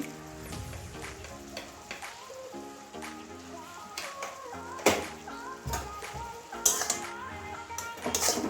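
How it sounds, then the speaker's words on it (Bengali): Salt is stirred into a bottle gourd and milk curry, with a spoon scraping and clinking against the pot in irregular bursts over a soft simmer and faint background tones. "আবারও ভালো করে নুনটা মিশিয়ে দেবো"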